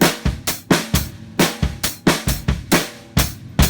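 A drum kit plays a steady, punchy beat, with sharp snare hits and kick drum strokes, close and loud, no voices.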